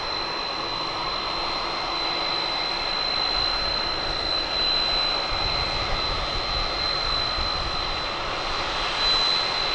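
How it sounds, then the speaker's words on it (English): A steady, broad roar of four-engine jet aircraft engines at DFW Airport with a high whine on top, continuous and fairly distant, without any voices. "Just soak up some of that 4-engine jet sound"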